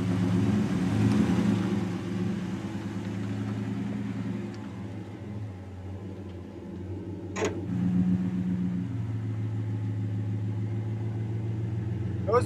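A car's engine runs steadily as it is driven, a loud continuous low rumble with slight swells in revs and one brief sharp click partway through.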